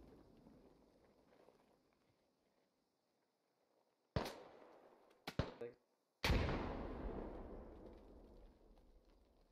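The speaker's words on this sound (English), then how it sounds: "the U.S. Militia guys, their gunfire is being covered by those explosions" Bursts of gunfire and explosions from a militia firefight in the video game Operation: Lawless Range, starting with a quiet stretch, then sharp loud blasts and shots midway, ending in a heavy booming explosion that rumbles and fades.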